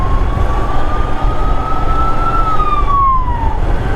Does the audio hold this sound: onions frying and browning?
no